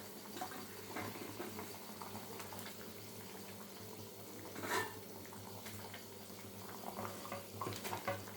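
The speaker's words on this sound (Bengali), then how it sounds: "জলটা ফুটে উঠেছে" Water boiling in a pan before fish goes in, a faint continuous bubbling with a louder splash or stir midway and scattered small pops, heard close without talk.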